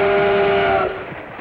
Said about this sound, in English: Lionel Trains, the only model trains with magna traction